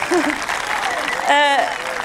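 An audience at a storytelling show in Montbazon applauds a performer, continuous clapping with voices talking over it and a brief vocal exclamation partway through.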